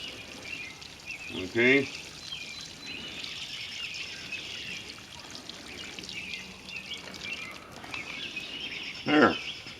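Water poured steadily into a garden bucket planter with drain holes, a soft continuous splashing soak, with birds chirping faintly in the open air and brief speech near the start and end.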